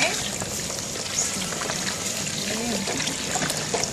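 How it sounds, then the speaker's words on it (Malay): Corn flour mixture is poured into a cooking pot outdoors to thicken a dish of tulang merah, a continuous trickling, pouring liquid sound with a voice speaking over it. "Kita masukkan tepung jagung"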